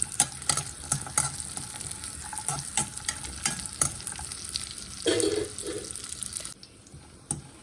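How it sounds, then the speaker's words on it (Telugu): Almond flakes, cashews and raisins fry in hot ghee with soft crackling and a sizzle, while a spoon stirs them in a quick clattering rhythm. The pan sound fades near the end. "నెయ్యి కాగిన తర్వాత మనం డ్రై ఫ్రూట్స్ వేసి వేయించుకున్నాను"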